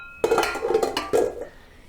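Metal spoon clinks and scrapes against a bowl while pumpkin pie mixture is stirred, a few close, bright strokes standing alone.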